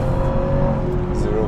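A 2010 Jaguar XFR launching from a standstill to 60 mph with wheel spin: a loud, close, steady engine drone holds throughout the brief stretch.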